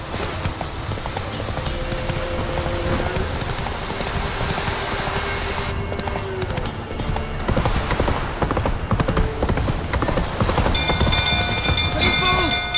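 Horse hooves clip-clopping at a gallop in the open-world fantasy game The Witcher 3, a loud continuous rhythmic pounding with game music and ambient effects layered underneath, a snort or whinny now and then, and no clear speech.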